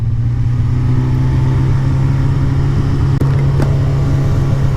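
A car engine brakes on a steep downhill road in Corsica, holding around 4,500–5,000 rpm. It makes a steady, loud, close drone with a constant low hum and no voices.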